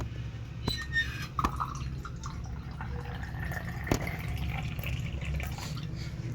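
Ganges water being poured into a small ritual vessel while a goddess's sixteen-offering worship is prepared, with soft drips and liquid trickles over a steady low hum.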